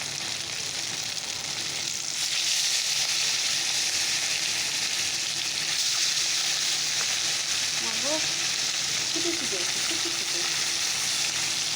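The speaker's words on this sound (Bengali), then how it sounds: "চলো অল্প অল্প করে ভেজে নিই মাছগুলো" Fish frying in very hot, smoking oil in a wok, a steady loud broadband sizzle and crackle that holds throughout, with faint spatula stirring sounds partway through.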